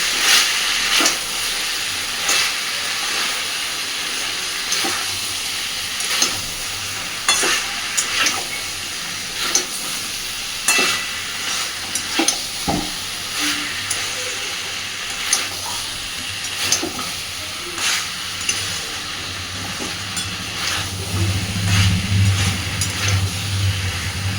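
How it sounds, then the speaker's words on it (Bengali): Potato and cauliflower frying with spices in a pan, a continuous sizzle broken by scraping stir strokes at a loose rhythm, close and fairly loud with no talk. "খুব সুন্দর করে এবার মিশিয়ে নেব"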